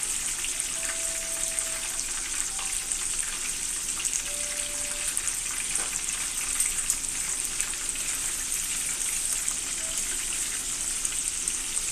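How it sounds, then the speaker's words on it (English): Food frying in hot oil, a continuous crackling sizzle with steady bubbling and no talking. "I'm glad that they're frying a little bit slower."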